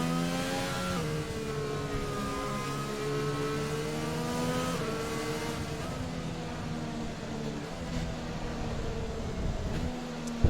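Race cars scream past in a PC racing game at Sao Paulo, with high engine whines steadily rising and shifting in pitch as several cars go through together, and no voices over them.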